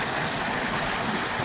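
Water pours over a waterfall, a dense, continuous rushing roar that sounds close and loud, with no voices on top.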